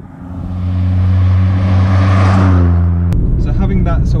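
A 1997 Toyota Starlet's naturally aspirated 1.3 litre engine revs up loudly and close by, its droning tone holding steady before cutting off sharply, after which a voice begins speaking over the idle.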